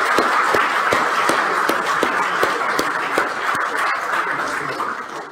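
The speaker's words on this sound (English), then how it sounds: "If everyone could actually just join me in giving a final round of applause to all of our presenters today." Steady applause from a symposium audience, loud and continuous for about five seconds with a few sharper claps standing out, gradually thinning toward the end.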